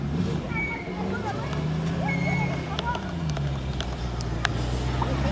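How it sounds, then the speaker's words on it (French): An MG BGT V8 sports car passes at a classic car show in Suresnes, its engine a low steady rumble under crowd noise, with brief sharp clicks and distant voices around it. "Une EMG BGT V8 vient de passer."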